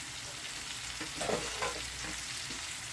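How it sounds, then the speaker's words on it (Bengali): Potato curry with ginger and garlic paste, red chilli powder, salt and chopped tomato is stirred in a pan, a quiet steady sizzle with a few soft scraping strokes of the spoon near the middle, with no voices. "এবার এটাকে ভালো করে নেড়ে ছেড়ে নিচ্ছি"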